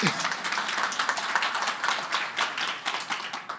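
Steady applause from a conference audience, many hands clapping in a dense, continuous patter at moderate loudness.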